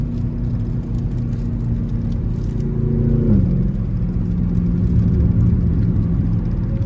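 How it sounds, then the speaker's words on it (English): Steady low tire rumble and road vibration inside a moving car heading to get its tires replaced, continuous and loud throughout with a slight shift in pitch partway through, no talking. "All this vibration because of the tires and shit."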